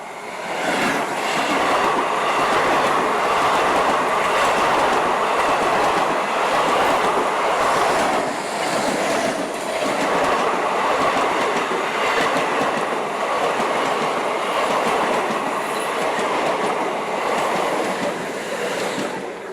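A train rolls past for the whole stretch with a loud, steady rumble and rattle of rail cars, close and continuous, with no talking over it.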